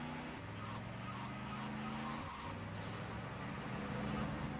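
A car in GTA Vice City drives with a droning engine that shifts pitch as it slides and brakes, tire noise rising partway through, continuous and moderately loud.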